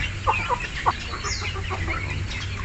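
Backyard flock of chicks and chickens, with scattered soft clucks and peeps over a low steady background hum, one sharper call near the end, moderately close.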